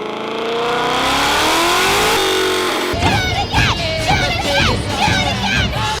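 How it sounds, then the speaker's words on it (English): A supercharged muscle car, one of a GT500 Mustang, Camaro ZL1 1LE or Hellcat Redeye Widebody, revs hard on an indoor dyno with a rising engine roar and supercharger whine, then talk follows over a rougher, lingering engine noise. "The dyno operator hammers the throttle down, the exhaust bellows through the building. The whine of the supercharger screaming"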